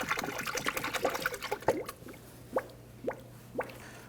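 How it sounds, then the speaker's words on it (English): Coolant poured into the radiator of a 2017-2020 Hyundai Elantra 2.0L, heard as a few soft gurgles and glugs that settle into separate drips spaced about half a second apart, close and quiet. "let's go ahead and fill up the radiator"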